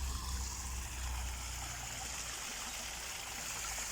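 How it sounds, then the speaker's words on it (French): Water pouring steadily down a garden pond cascade on terraced grounds, a continuous close splashing rush with no gaps and no voices. "Donc la cascade."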